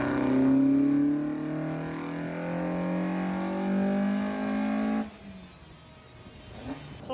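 A Honda 2.0 engine fitted in a Ford Escort revs steadily upward under load during mapping, a sustained rising drone that drops off sharply partway through, leaving a quieter idle with a brief blip near the end.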